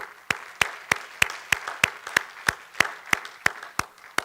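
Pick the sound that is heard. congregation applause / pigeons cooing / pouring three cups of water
congregation applause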